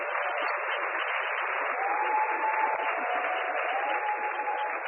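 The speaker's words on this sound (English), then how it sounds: "he deserves a round of applause." An audience at a postgraduate research Imbizo applauds steadily for several seconds, a dense, even wash of clapping heard from a distance with no voices over it.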